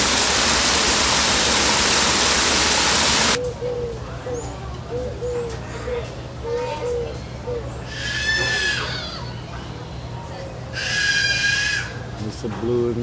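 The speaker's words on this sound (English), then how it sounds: "They have so many different waterfalls here." Waterfalls at Parrot Jungle in Miami pour in a loud, steady rushing roar that stops abruptly after about three seconds, followed by quieter surroundings with scattered bird chirps and two bursts of harsh parrot squawking.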